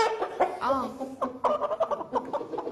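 Two chickens, a domestic rooster and a gamecock kept in a tight space, cluck and squawk in short bursts and warbling calls, close and fairly loud, with no talk.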